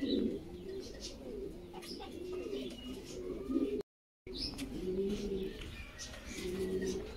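A breeding pair of toy Lahori pigeons coos close by, their low throaty calls repeating in rolling phrases, with faint chirps in the background and a brief dropout midway.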